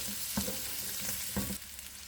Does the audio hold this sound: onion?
yes